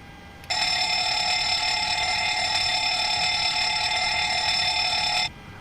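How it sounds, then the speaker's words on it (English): An engine fire alarm test sounds in an airliner cockpit in the MSFS 2020 flight simulator. A continuous, loud electronic bell-like alarm rings steadily for about five seconds on its own, then cuts off abruptly. "Let's do our quick fire test here to make sure that our fire alarm system for the engines is working."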